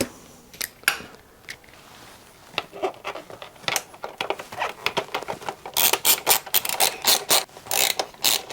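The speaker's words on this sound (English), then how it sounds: "Okay, now I have to put the seat bolts back in." A ratchet clicks in bursts as seat bolts are tightened on a 2007 Suzuki GSX-R 1000 sport bike, with short rapid runs of sharp metallic ticks, the later strokes louder and closer, with no talking.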